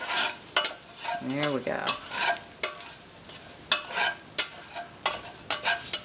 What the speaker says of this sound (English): I'm going to add in those seasonings. Kind of coat that ground beef.